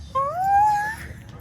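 A dog gives a high, rising whimper that lasts about a second. It is fairly close and clear against a low outdoor rumble.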